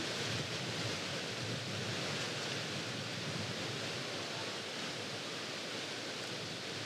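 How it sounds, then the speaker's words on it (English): Strong wind gusting across an open golf course during a disc golf round, a continuous broadband roar buffeting steadily and loudly with no voices. "you can hear and see the wind"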